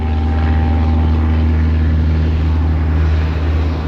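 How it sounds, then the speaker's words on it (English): A propeller aircraft engine, from a Bonanza, runs loud and steady up close with a constant drone and no voices. "airplane's taking off."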